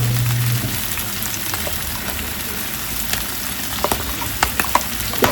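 Meat sizzles and fries steadily in a pan with a little added oil, crackling with sharper pops and spatters toward the end, no voices over it.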